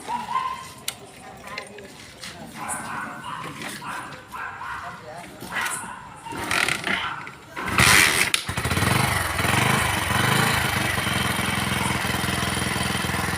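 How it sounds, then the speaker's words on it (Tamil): A Passion Pro motorcycle engine cranks and catches with a sudden burst, then settles into a steady, loud idle. "நான் பேஷன் ப்ரோ இன்ஜின் வந்து எல்லாம் ரெடி பண்ணியாச்சு. அதை ஸ்டார்ட் பண்ணி காமிக்கிறேன் பாருங்கள்."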